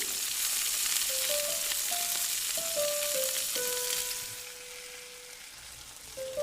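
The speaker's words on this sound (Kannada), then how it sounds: "ಸ್ವಲ್ಪ ಹೊತ್ತು ಈ ಬೆಳ್ಳುಳ್ಳಿಯ ಮಿಶ್ರಣವನ್ನು ಫ್ರೈ ಮಾಡಿಕೊಳ್ಳಿ." Crushed garlic frying in oil for village-style rasam, a steady loud hiss of sizzling that fades a little toward the end, with a few faint tonal beeps over it and no voices.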